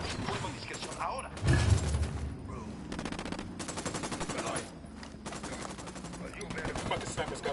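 Enemy gunfire in Ghost Recon Wildlands: sustained machine-gun bursts and scattered shots, one heavy thump early on, with voices talking over the shooting throughout.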